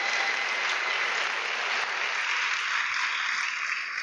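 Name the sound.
audience applause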